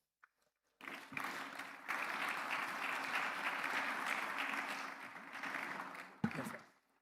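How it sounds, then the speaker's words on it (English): After a brief pause, warm sustained applause rises at an executive programmes graduation ceremony, holding steady for several seconds, then a sharp knock and a quick fade as it ends. "A round of applause for all graduating executives one more time"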